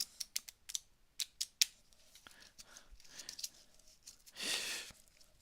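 A deck of playing cards is riffle shuffled by hand, a quick run of sharp close clicks and flutters followed by a softer rasping push as the halves are squared together, quiet and without talk.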